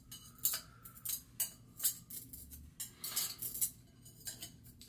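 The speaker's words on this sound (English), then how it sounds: "I'm just gonna slide it right along the side" A butter knife scrapes and clicks along the inside wall of a dry cactus pot, a string of quiet separate scraping strokes in an otherwise still room.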